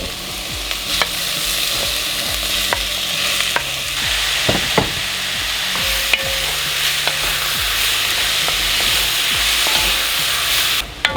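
Onion and tomato fry in a pan with a steady loud sizzle, broken by scattered clicks and scrapes of stirring, with no talk.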